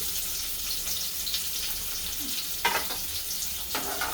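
Peanuts and sesame seeds roast in a pan, giving a faint steady sizzle with a few sharp stirring scrapes, no voices.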